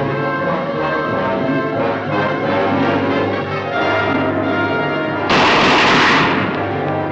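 Gunfire crackles in a 1957 horror film trailer, a rapid burst of shots under a loud orchestral score that swells sharply near the end.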